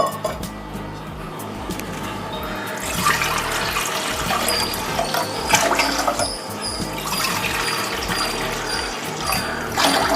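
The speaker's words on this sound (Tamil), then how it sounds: "4 கப்பு ஊற்றுங்கப்பா. அளந்துக்கங்க" A steady rush of water pours into a pot for rasagulla syrup for several seconds, with faint clinks and surges in the flow.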